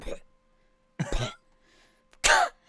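A voice imitates a creature hacking something up, with three short, throaty coughing bursts separated by pauses, the last one loudest and rough.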